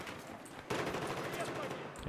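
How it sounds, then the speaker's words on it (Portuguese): Gunfire in the video game Battlefield 1, a burst of dense, rapid shots breaking in after a quieter moment and continuing as sustained fire, with a voice talking faintly beneath. "Nossa, o tiro tá comendo solto aqui."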